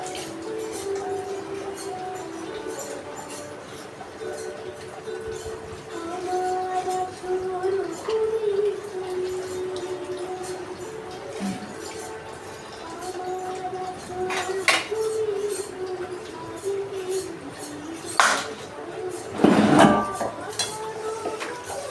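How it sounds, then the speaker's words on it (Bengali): Two kadai cooking pots are scrubbed clean during dishwashing, with soft scraping and scattered metallic clinks and clanks of pots and utensils over a low background hum, growing a bit louder near the end. "দুটো কড়াই মাজা হয়ে গেল।"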